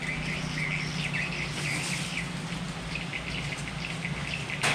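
Rain falls steadily outside a roadside fried-snack stall, a continuous hiss of drops on surfaces, while birds chirp in repeated bursts through the downpour and no one speaks.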